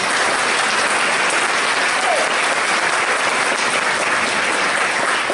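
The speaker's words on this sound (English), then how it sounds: "I'd like everyone to give them a round of applause" Dense, continuous applause from a workshop audience, a steady wash of many hands clapping at once, loud and even throughout with no voices on top.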